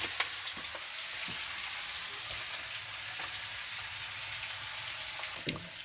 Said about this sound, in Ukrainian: Саме головне, що сковорода скварчить.